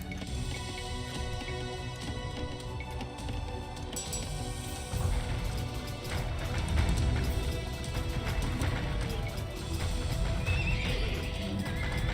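Horses neigh and whinny amid clip-clopping hooves and game battle noise in Age of Empires II, a steady dense mix of sounds with no speech.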